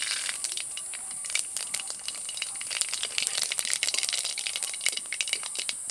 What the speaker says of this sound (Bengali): এবার কড়াইতে সামান্য তেল দিয়ে দেব। তেলের মধ্যে দিয়ে দেবো একটা শুকনো লঙ্কা, কালো জিরে দেব, গোটা সর্ষে দেব, কালো সর্ষে।